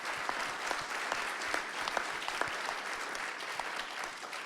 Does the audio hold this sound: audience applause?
yes